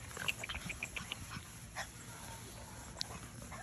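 Seven-week-old Belgian Malinois puppies give faint, high thin whimpers and yips in a quick run of short cries near the start, with one sharper squeak later, all soft and close amid a quiet background.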